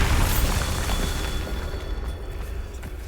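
A Bombarda spell explosion in Hogwarts Legacy starts with a loud, deep boom right at the opening, and its rumbling decay fades over about three seconds.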